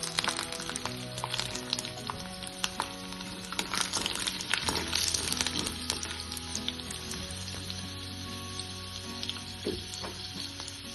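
Whole garlic cloves, five to seven of them, sizzle and fry in hot oil in a pan for Khandeshi brinjal bharit, a steady close crackling hiss with scattered pops and no talking.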